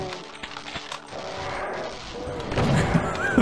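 Enemy gunner firing in Doom, a quick series of gunshot-like bursts in the middle distance amid game noise and other clatter.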